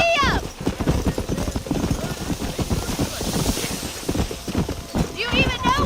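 Horse hooves galloping in Red Dead Redemption, a fast steady clip-clop rhythm running throughout with wind-like rushing, close and loud, with a shout at the start and end.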